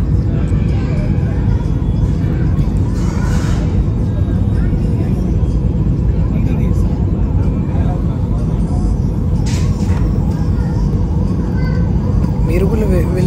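Airplane landing on arrival in Colombo, Sri Lanka, heard from inside the cabin: a loud, steady broadband rumble runs throughout with no letup, with voices talking over it.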